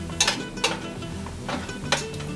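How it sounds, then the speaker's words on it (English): Collard greens stirred in a pot after vinegar and Tabasco go in, with a few distinct metal utensil scrapes and clanks against the pot over a soft background hiss, fairly quiet. "I'm going to give this a quick stir."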